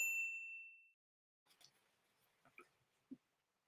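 A notification bell ding rings out once, bright and clear, with a tonal ring that fades over about a second before a few faint, scattered soft sounds follow.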